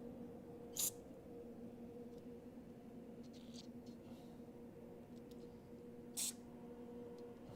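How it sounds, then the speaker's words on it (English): Brake cleaner is sprayed into the carburetor passageways of a snow blower in two brief, sharp hissing bursts several seconds apart, over a steady low background hum. "So I'm going to take my brake cleaner."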